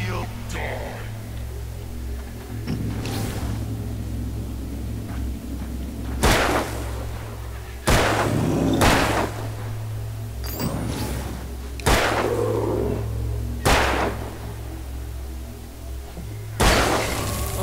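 A revolver fires in the video game Alan Wake, sending roughly eight sharp, booming shots at irregular intervals over a steady low drone of game ambience.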